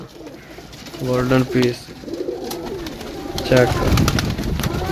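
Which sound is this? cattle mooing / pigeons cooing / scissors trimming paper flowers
pigeons cooing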